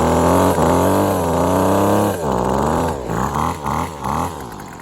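A Husqvarna 128LD string trimmer with no clutch runs on half choke, its small two-stroke engine droning loudly and steadily with the head always spinning, then dipping and surging in short throttle blips near the end.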